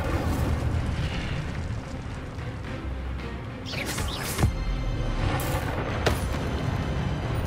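Spell effects from the Hogwarts Legacy video game, including the Incendio fire spell, rumbling blasts and bursts layered over a dense, continuous game soundscape, with a couple of sharp pops standing out.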